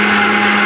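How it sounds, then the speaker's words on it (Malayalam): A kitchen mixer blender whirs steadily up close as it blends banana, milk, cashews and sugar into a shake, cutting off abruptly at the end. "ഇനി അടിച്ചെടുക്കുക."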